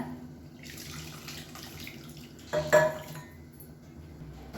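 Tamarind water is poured into a pot of radish sambar in a home kitchen, a faint trickle and splash that swells briefly in the middle against quiet background clatter.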